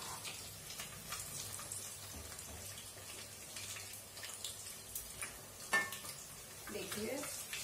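Egg bondas deep-fry in hot oil, a quiet steady sizzle with soft crackling pops and a few louder spatters, fairly close and low in level.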